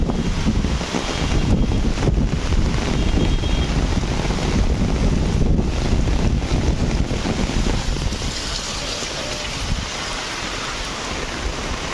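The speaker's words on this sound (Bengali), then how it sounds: "দেখুন কি পরিমাণ বাতাস আর বৃষ্টি" Strong wind buffets the microphone with a continuous loud rumble and roar, mixed with the wash of falling rain over flooded desert ground.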